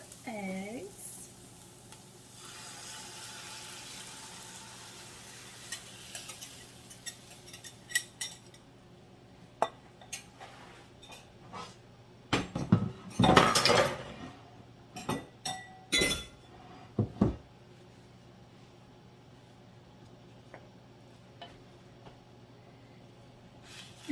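Scrambled eggs sizzle quietly in a pan while a utensil stirs and scrapes them, with a run of louder clinks and knocks against the pan partway through.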